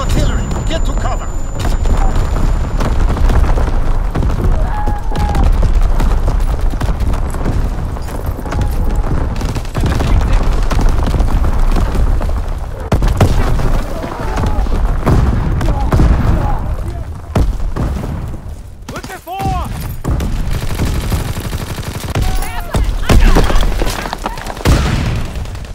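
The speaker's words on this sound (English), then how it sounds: "Incoming enemy artillery! Get to cover!" An enemy artillery barrage in Call of Duty: WWII, set in 1944, pounds continuously with rumbling blasts and crackling gunfire, while voices call out underneath.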